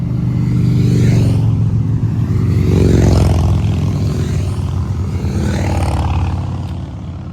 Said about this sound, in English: Hang on, I'll let these motorcycles pass.